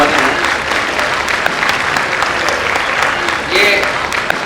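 Audience at an Independence Day celebration in Meerut breaks into steady, loud applause, many hands clapping evenly throughout with a slight swell near the end.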